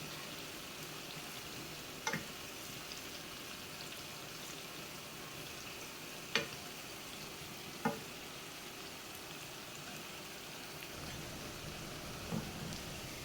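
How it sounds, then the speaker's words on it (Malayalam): Fish pieces frying in hot oil for a homemade fish pickle, a steady close sizzle with a few sharp clinks of stirring scattered through, no voices. "നമുക്ക് ഇളക്കി കൊടുത്തിട്ട് എല്ലാ വശം കൂടെ ഒന്ന് വറുത്തെടുക്കാം."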